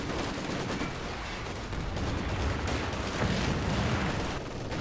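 Machine gun fire in a Company of Heroes style strategy game, a Maxim gun hammering continuously among other gunfire and battle noise, dense and steady for the whole stretch with no talk.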